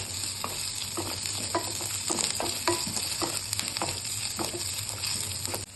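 Onions sauté in a pan for a mint (pudina) chutney, with a steady sizzle under repeated short scraping stirs of a spoon, close and moderately loud, with no talking.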